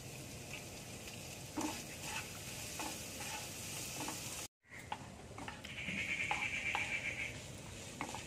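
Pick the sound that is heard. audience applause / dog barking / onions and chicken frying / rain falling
onions and chicken frying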